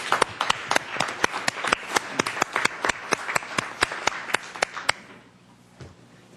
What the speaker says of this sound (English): I think we should give a round of applause to Diego and to the Youth Council who's here